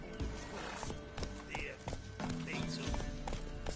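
Roach, a horse in The Witcher 3, trots with steady clip-clop hoofbeats while letting out a couple of whinnying neighs, close and clear over a busy game backdrop.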